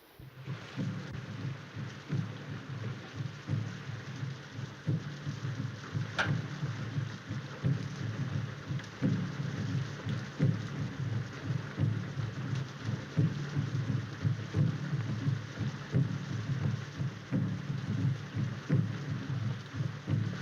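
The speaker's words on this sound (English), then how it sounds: "This rain and those drums." Heavy rain pours steadily in a 1932 drama film scene, a dense roar of water with low rumbling thunder beneath and one sharp crack partway through; no voices.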